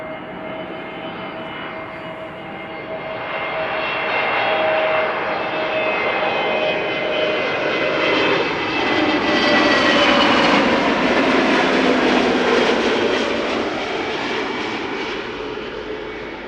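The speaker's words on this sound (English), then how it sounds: "EasyJet A320neo arriving from Geneva," An easyJet Airbus A320neo jet arriving at Amsterdam Schiphol from Geneva, its engine roar building steadily and holding loud for the whole stretch with a whining tone, no voices over it.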